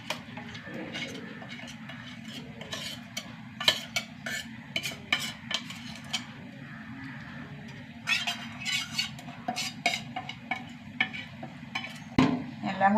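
Spicy sambar powder mixed with a little water is poured into a curry pot and stirred, giving repeated scraping and clinking of a spoon against the metal pot over a low steady hum.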